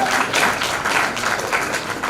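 Applause from an audience at a 2023 O Level school graduation ceremony in a hall, a steady dense clapping that runs without break.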